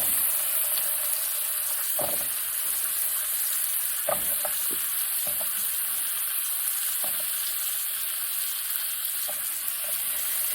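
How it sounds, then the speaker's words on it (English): Mushrooms sizzle steadily in butter in a fry pan, a constant close hiss broken by a few soft clicks of stirring. "So now on the same fry pan, we're going to add another spoon of butter and add our mushrooms to it."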